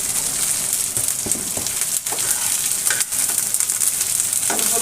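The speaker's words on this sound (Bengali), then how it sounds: "আমি হলুদ লবণ ছাড়াই কিছুক্ষণ ধরে ভেজে নেব।" Drumstick pieces and mixed vegetables fry with lightly browned onions in a pan, a continuous loud sizzle broken by occasional stirring scrapes, with no voices.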